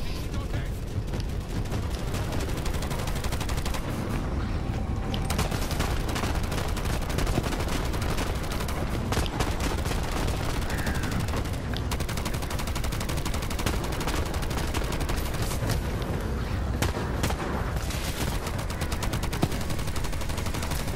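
Dense, continuous turret gunfire rattles from a Borderlands 3 video game, loud and sustained throughout with crackling bursts and booms layered on top.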